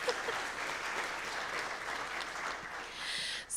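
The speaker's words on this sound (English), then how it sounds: "Can I get a round of applause for our helpers this morning?" Audience applauding steadily at a Sunday morning Unitarian Universalist church service, a dense, continuous clapping that holds at an even level for several seconds before tapering briefly at the end.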